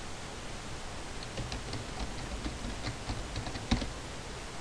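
Someone types a database username on a computer keyboard, a steady patter of soft keystrokes under faint room hiss, with one sharper key click near the end.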